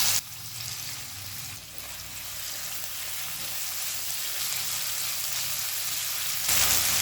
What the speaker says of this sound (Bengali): গ্যাসটাকে এবার হাই ফ্লেমে রেখে 3 থেকে 4 মিনিট চিংড়ি মাছটা ভেজে নেব